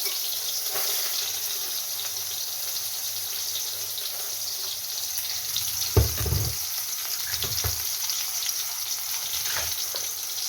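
Soybean chunks fry in a small amount of oil, giving a soft continuous sizzle with a few louder stirring scrapes partway through.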